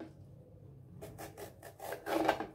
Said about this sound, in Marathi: आपल्याला आता टमाटा बारीक कट करून घ्यायचे आहे.